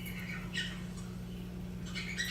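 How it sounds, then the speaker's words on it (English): A cockatiel gives a few faint, high chirping calls in short bursts near the start, middle and end, set over a steady low indoor hum. "natural cockatiel sounds"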